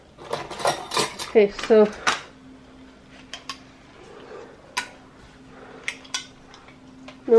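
Metal canning jar lids are pulled out and handled in a home kitchen while making carrot cake jam. A rapid burst of clinking, rattling clatter comes first, then scattered single taps and clinks. A voice speaks briefly near the start.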